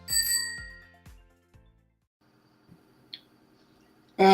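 Notification bell sound effect: a bright bell ring followed by several quick decaying dings, then near silence with a few faint clicks before a loud burst at the end.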